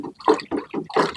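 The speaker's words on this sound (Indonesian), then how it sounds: "Nah, kemudian ini airnya ditambah lagi guys." Water stored in a gallon jug is poured into a container in uneven glugging pulses, about five gurgling surges in quick succession, close and loud with no talk.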